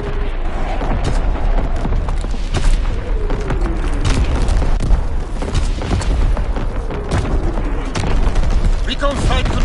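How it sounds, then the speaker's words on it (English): Heavy warship main battery guns firing in a naval combat video game, booming salvos over a dense continuous rumble of explosions and battle noise, with a voice speaking over parts of it. "Firing primary battery"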